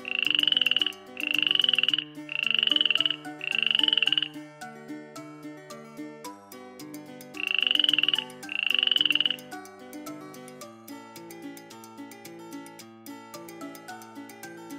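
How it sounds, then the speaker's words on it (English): A frog croaks in six loud, evenly spaced bursts, four in quick succession and then two more after a pause, over a steady plinking musical backing with no talk. "Green frog."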